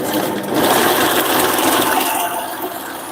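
A mixing machine whirring steadily as it beats vanilla, egg yolk and sugar for homemade ice cream, a close, continuous buzzing churn lasting a few seconds with no talk.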